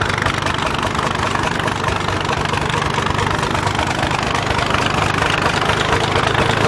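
A 7.3 litre Cummins turbo diesel truck engine fitted in a large John Deere tractor runs steadily at an outdoor steam rally, a loud, continuous low rumble with a busy mechanical clatter throughout.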